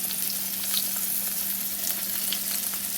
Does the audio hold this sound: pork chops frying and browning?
yes